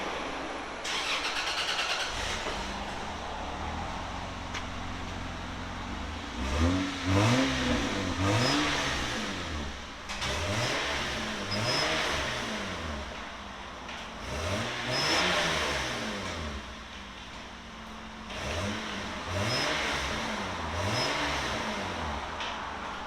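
A 1996 Toyota Land Cruiser's 4.5L inline-six starts and revs several times, rising and falling in pitch with a throaty exhaust note, close by and fairly loud, with no talking.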